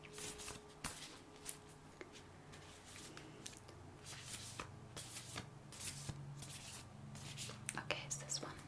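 Soft, smooth cards are shuffled close up in quiet, papery riffles and slides, with occasional light taps and faint whispery handling.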